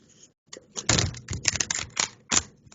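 A deck of angel cards being shuffled by hand gives a quick burst of close, crisp riffling and flicking clicks after a brief pause, irregular and dense, with no talk over it.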